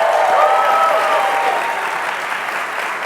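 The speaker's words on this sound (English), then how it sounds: "let's give a round of applause for Emma" Steady audience applause at a FarCon NYC conference keynote, a loud dense wash of clapping that holds for about three seconds and eases slightly toward the end, with faint voices underneath.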